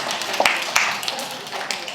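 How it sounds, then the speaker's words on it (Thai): Applause from a small group during a Thai family-violence prevention workshop session, a dense patter of hand claps lasting about two seconds, moderately loud and near, with a few louder individual claps standing out. "เสียงปรบมือให้กลุ่มบอกมินนี่ค่ะ"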